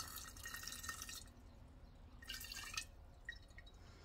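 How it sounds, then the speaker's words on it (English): Rhubarb honey mead being poured into a jar: quiet, close trickling and dripping of liquid in two short bursts with small splashes, faint and intimate. "I'm just going to estimate and pour 1/2 in one jar"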